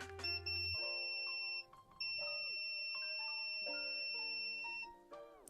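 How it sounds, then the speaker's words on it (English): A multimeter in continuity mode beeps in steady, sustained electronic tones with short breaks between them, clear and close, with no talking. "Consistent beeping."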